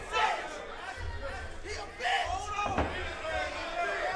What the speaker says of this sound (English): The crowd a bit rowdy right now.